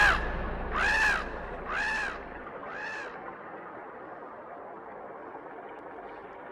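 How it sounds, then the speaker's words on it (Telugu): A crow in an animated mythological story caws four times in a slow rhythm, harsh and fairly close, the calls fading into a quiet background hiss. "అగస్త్యుడు కాకిని తోలబోయి కమండలాన్ని జారవిడిచాడు."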